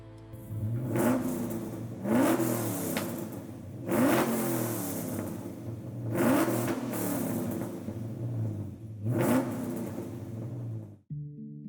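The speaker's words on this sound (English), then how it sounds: "we've got, of course, the MagnaFlow exhaust. This car is beautiful and it sounds fantastic" A 1956 Chevrolet Bel Air engine revs hard through a MagnaFlow exhaust in five loud, evenly spaced bursts that drop back to a steady rumble between them, with no talking.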